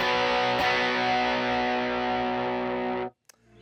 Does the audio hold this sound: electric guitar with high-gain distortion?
yes